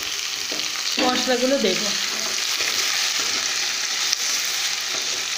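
Chopped potato and tomato pieces sizzle in a hot pan for a banana-flower curry, with a steady hiss punctuated by scraping stirs. A voice speaks briefly near the start.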